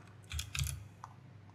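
Typing on a computer keyboard: a quick cluster of clicky keystrokes near the mic, a pause, then one more light tap over a quiet room hum.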